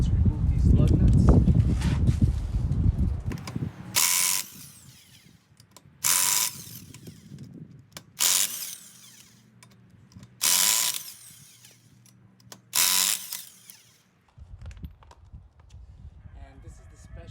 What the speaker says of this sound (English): you want a 7/8 socket in order to remove these lug nuts